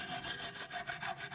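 A Wicked Edge sharpener stone grinding knife steel in a crosshatch pattern, raising a burr: quick, rhythmic rasping strokes, about eight back-and-forth scrapes, close and fairly loud, with no speech.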